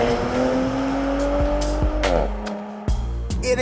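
A 2022 Porsche Macan GTS SUV roars at high revs, its pitch climbing steadily, then a gear change and more hard revving, loud and close with no talking.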